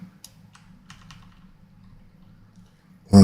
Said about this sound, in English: when I click the keyboard it does kind of vibrate through